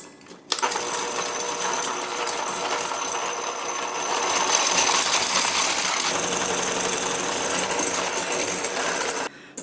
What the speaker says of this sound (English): I'm going to mix those up with my whisk attachment